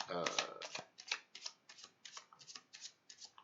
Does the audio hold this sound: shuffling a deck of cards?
yes